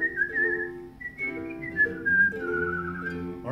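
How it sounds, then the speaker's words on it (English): A person whistles a short tune during a festive college Twelve Days of Christmas performance, clear wavering melodic notes carried alone for a few seconds, no speech. "shall I whistle it for you?"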